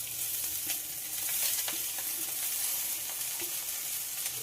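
Spiced pasta with peas and egg sizzles over low gas in a wok while being gently stirred, giving a soft, steady crackle with light scraping taps.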